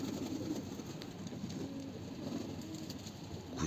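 A female tumbler pigeon coos softly and low in a coop, a faint steady murmur with no voices over it.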